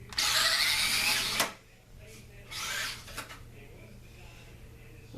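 A 1:24 scale Losi short-course RC truck with a brushed motor makes a straight-line run: a loud, high buzzing whine for about a second and a half, then a fainter second pass, with quiet ground noise between.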